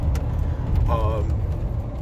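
Steady low road and engine rumble from inside a 1996 Ford F150 short box 4x4 pickup cruising down the road, with a brief faint jingle partway through.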